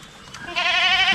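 A goat gives a single loud, wavering bleat close by, rising out of quiet farmyard background.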